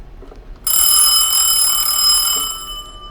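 A small hand bell rung once indoors, a bright metallic ring that sounds sharply and then rings on with a slowly decaying shimmer, alone without talk.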